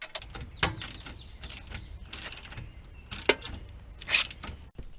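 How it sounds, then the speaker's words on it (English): A 16 mm socket wrench works loose the bottom bolt of a rear coilover on a Mercedes-Benz, producing close, irregular ratcheting clicks and metallic clanks with brief scraping bursts. "we're going to go ahead and use a 16 millimeter socket to remove the bottom bolt."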